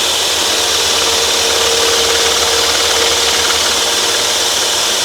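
A saw cuts steadily around a carved wooden salad server spoon, producing a loud, close, continuous rasping hiss with no pauses.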